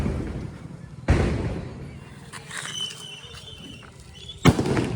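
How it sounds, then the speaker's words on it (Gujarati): Two sharp, loud bangs about three seconds apart, each followed by a crackling decay, with quieter hissing and rumbling between them. "આજે ભાઈ દેવ દિવાળી તો ફટાકિયા તો ફોડવા પડે"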